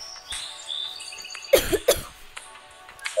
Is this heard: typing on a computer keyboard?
no